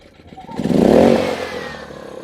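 The small engine of an Aceup 4000 generator is pulled over and briefly catches, a close, loud mechanical surge that swells over about a second and fades back into a quieter rattle.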